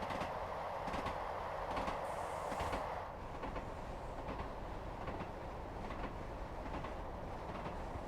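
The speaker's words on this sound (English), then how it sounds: "Yeah, you can't not like the track sounds." Train in Train Sim World 3 on the Peak Forest Railway route between Ambergate, Chinley and Buxton, steady rolling rumble with faint repeated clickety-clack wheel beats over rail joints, continuous and even, without talk.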